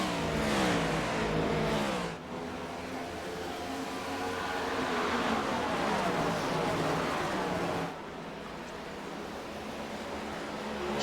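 Stock cars race at Dover in a racing video game, their engines droning and revving steadily throughout with shifting pitch, loud and continuous, with a brief dip in level partway through and no talk.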